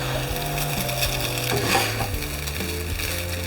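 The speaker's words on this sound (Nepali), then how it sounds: "हामीले राइसलाई चाहिँ 1-2 मिनट जति फ्राई गर्नुपर्छ।" Rice frying in a pan with light and dark soy sauce mixed in, a close, continuous sizzle with soft scraping and stirring, no voices.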